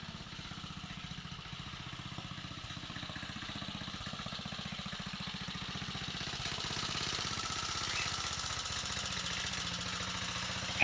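Briggs engine running steadily with its fuel shut off so it burns what is left in the carburetor, a continuous dense rumbling drone that grows slightly louder partway through, with no voices.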